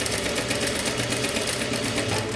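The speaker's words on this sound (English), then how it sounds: "I start to sew like this" A sewing machine runs steadily, stitching the seam of a kimono jacket with a continuous even whir and no pauses, close and moderately loud.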